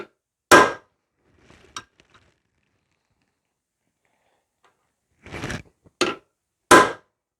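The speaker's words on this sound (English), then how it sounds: "Spring-loaded center punch gives me a good starting point" A spring-loaded center punch marks a bushcraft knife tang, giving sharp, isolated metallic snaps: one near the start, a faint tap, then three crisp strikes close together at the end, with silence between.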